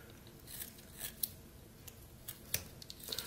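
A pocket knife carves a small wooden figure, making faint, close scraping slices and a few light cutting clicks in quiet surroundings.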